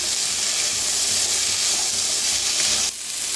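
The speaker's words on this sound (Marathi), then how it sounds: "आता मिक्स करून भाजून घेऊया दोन्हीला बी मटरला जास्त टाइम लागत नाही ताजे मटार आहेत हे" Fresh peas and potatoes roast in a hot pan with a steady, close sizzling hiss that holds for several seconds before dipping slightly near the end.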